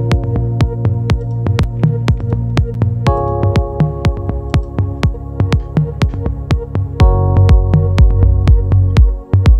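Constant plucked synth notes in an organic house track, repeating in a steady rhythm over a deep kick and bass pattern, loud and upfront with no voices.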